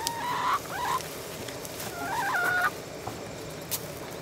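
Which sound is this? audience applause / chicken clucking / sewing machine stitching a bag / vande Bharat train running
chicken clucking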